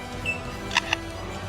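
Two quick mechanical clicks, like a camera shutter firing twice in close succession, short and crisp against a faint steady background hiss.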